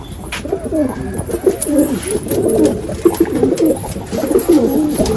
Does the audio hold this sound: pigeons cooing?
yes